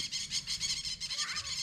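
A flock of maritaca parrots on a rural Brazilian farm gives harsh, shrill screeching calls in quick repeated pulses that run continuously and fairly close.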